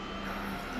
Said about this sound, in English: this is the sound of the plane taxiing to the runway